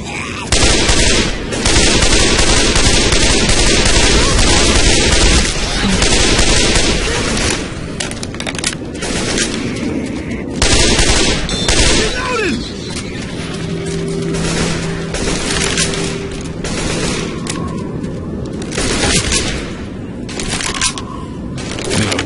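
Shotgun gunfire in Left 4 Dead 2, loud repeated blasts with booming bursts over a dense, continuous game soundscape of chaotic action throughout.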